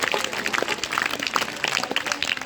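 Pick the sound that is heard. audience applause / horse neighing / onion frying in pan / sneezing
audience applause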